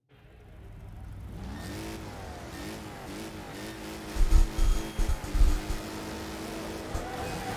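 Racing car engines roar and rev during a Wreckfest race, a steady wash of several motors with louder bursts of acceleration and throttle near the end.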